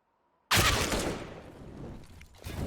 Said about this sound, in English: sprayed through the vent, drops BTN down to 38